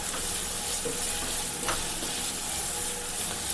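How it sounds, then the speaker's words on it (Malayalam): Finely chopped onion fries in a pan for Manavatti chicken, a dense continuous sizzle that stays loud and even, with a couple of light stirring touches and no speech. "നല്ല നൈസായിട്ട് കട്ട് ചെയ്ത് അത് നമുക്കതിലേക്ക് ഇട്ടോളൂ"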